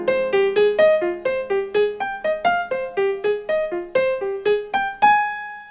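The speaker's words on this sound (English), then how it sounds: "What you're hearing is a square wave with a little bit of reverb and delay on it" Square-wave synthesizer lead plays a bright, bouncy melody of rapid, evenly spaced plucked notes with reverb and delay tails, ending on a sustained higher note; no voices.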